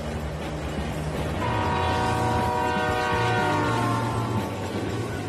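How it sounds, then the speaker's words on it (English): The Royal Canadian Pacific train rolls past close by on the track in a loud, continuous rumble, with a sustained horn-like tone rising partway through. "the Royal Canadian Pacific is about to pass right by"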